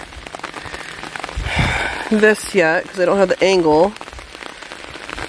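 Steady rain falls outdoors on a rainy day while gutter and drainage work waits, a constant patter throughout with a person talking over it midway.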